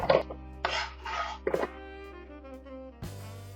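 A knife chopping washed, peeled radishes into small cubes on a board, with a few quick separate cuts and knocks followed by a louder clatter, close and fairly quiet, without voices.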